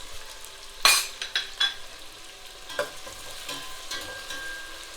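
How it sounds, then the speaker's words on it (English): Onions frying in a pan with a steady sizzle, broken by several close scraping and clinking strokes as they are stirred, the loudest near the start. "Give it a little stir, and then after a few seconds of stirring the onion"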